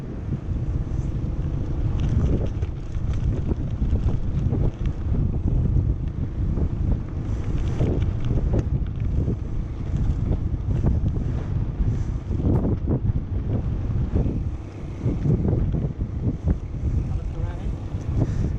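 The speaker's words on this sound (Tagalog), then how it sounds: "Lakas pala ng hangin dito." Strong, steady wind at Lingayen Beach, Pangasinan buffets the microphone with a constant roar throughout, a voice speaking faintly beneath the gusts.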